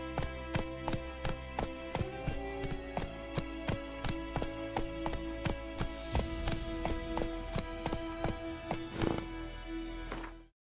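Roach gallops in The Witcher 3, hooves pounding in a quick regular clip-clop for about ten seconds under a droning musical backdrop before cutting off abruptly.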